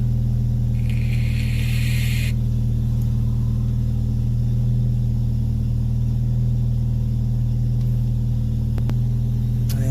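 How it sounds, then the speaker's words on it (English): A car engine idles steadily nearby, a constant low rumble filling the whole stretch with no speech, while a brief higher whine rises over it early on. "And here we go for when the car is running."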